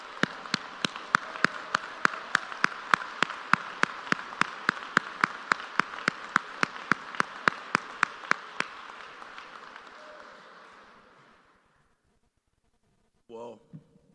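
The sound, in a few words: applause for the school principal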